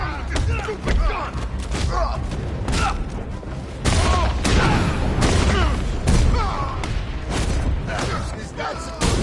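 Rapid bursts of gunfire and heavy impact thuds from the video game Batman Arkham Knight, irregular volleys and booms in close succession, loud and busy with little pause between them.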